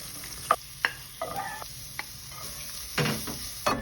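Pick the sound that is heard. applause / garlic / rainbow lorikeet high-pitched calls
garlic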